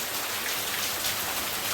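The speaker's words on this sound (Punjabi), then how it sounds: "ਝੋਨੇ ਦੇ ਉੱਪਰ ਫੁੱਲ ਵਟਾ ਫੁੱਲ ਵਾਰਸ਼ ਪੈ ਰਹੀ ਹੈ ਇਸ ਟਾਈਮ" Heavy rain pours steadily over open paddy fields in Punjab, a dense, even hiss with no break and no voices.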